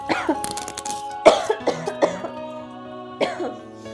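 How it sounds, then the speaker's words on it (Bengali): Several sharp coughs come in uneven bursts, close and fairly loud, with short pauses between them and no talking. "তোমার দিকে কাশি কমে নাই"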